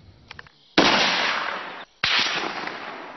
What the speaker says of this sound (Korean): 어둠을 뚫고 울려 퍼진 총성.